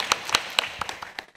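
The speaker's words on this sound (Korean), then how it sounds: "박수를 부탁드리겠습니다" A few sparse, separate hand claps at a government forum in Korea, quiet and uneven, seven or eight claps spread over a second and a half with no crowd swell.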